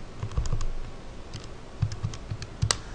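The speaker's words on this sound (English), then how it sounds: "if I type in square root of 576 in a calculator" Key presses on a calculator or keyboard while the square root of 576 is entered, a dozen or so soft clicks in two short bursts with a pause between, close by and with no voices.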